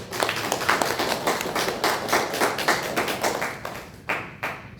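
A church congregation claps together at a Sunday worship service, a dense run of steady applause with rhythmic beats that fades toward the end into a few scattered final claps.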